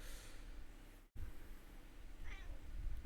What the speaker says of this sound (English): Sorry, we're having a cat moment.